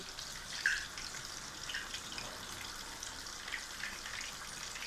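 Fish pieces for curry shallow-frying in hot oil, a steady soft sizzle with light crackles and a couple of sharper pops, fairly quiet and close, with no voices.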